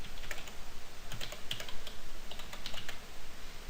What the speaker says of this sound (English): I would type it in, hit enter,